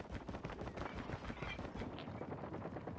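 A new gun firing in the Call of Duty Mobile video game, a dense, continuous stream of rapid shots and clatter from a nearby weapon, with no voice over it.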